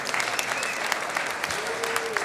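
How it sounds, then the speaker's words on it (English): An audience at a live roots music show claps and cheers for the winners, a dense, steady round of applause with scattered whoops and faint voices mixed in. "A big round of applause for the winners."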